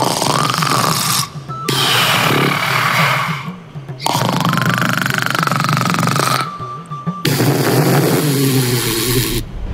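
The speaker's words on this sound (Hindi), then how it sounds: "कूलर के सामने भूकंप जितने तेज खर्राटे लेते हुए सो" Loud cartoon snoring as a sleeper lies in front of an air cooler. Three long, rasping, rumbling snores are each separated by a brief quiet gap, close and very loud.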